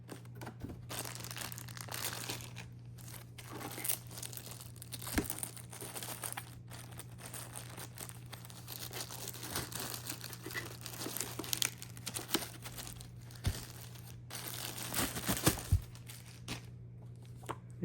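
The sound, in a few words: packing paper crinkling while unboxing a Reecom radio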